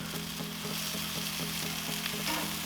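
Chicken wings cook on a Char-Broil Performance Series gas grill, producing a continuous close sizzle with a faint repeating ticking pulse underneath, and no talking.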